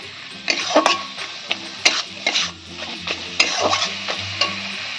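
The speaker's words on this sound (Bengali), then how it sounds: "মশলাটাকে আমি কষাবো" Masala spice paste being stir-fried in a pan for potoler dorma with prawns: a steady close sizzle with repeated scraping and clinking of a spatula against the pan, irregular strokes throughout.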